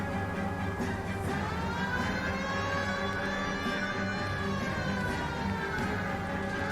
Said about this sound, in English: He had the siren on, so people get out the way.